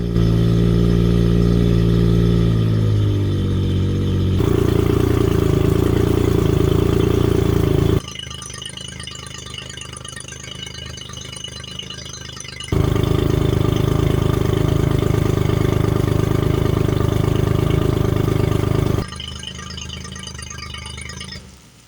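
The outboard engine of a Michalak AF4 Grande Skiff turns over and runs at a low idle near 1,000 rpm: a loud, close rattling drone that shifts pitch in distinct steps, dropping and rising between rough idle and fuller running.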